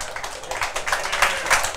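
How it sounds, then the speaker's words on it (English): Audience applause during a product demo and Q&A, a close, brisk patter of many hands clapping in fast irregular bursts for a couple of seconds. "Hey, stop clapping."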